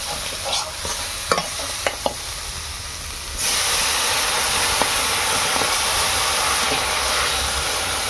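Crab for a Bengali village-style oily, spicy crab curry is stirred in a pan. A few scraping stirs over low hiss give way to a loud, steady sizzle that runs to the end.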